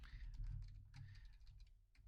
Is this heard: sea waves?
no